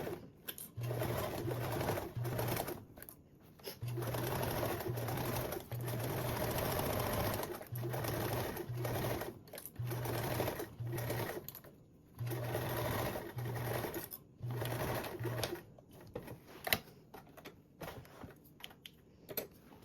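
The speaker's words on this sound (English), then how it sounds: "And now we can sew with them right sides together with a 3/8" Sewing machine running in repeated short bursts, stitching a 3/8-inch seam with fabric right sides together on a convertible duffle bag with binding; a steady, close mechanical whir that stops and starts with clicks between runs.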